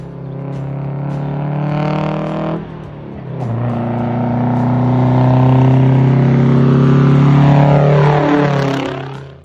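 A General Motors two-stroke diesel engine, the 'Screaming Jimmy', roars and climbs to a high, screaming wail at full throttle, its harmonic pitch rising and sustaining before easing off.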